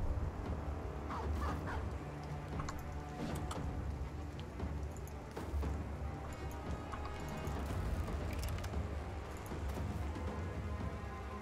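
Dogs bark and yip in the video game Battle Brothers, scattered calls under a dense, steady wash of battle noise that runs throughout.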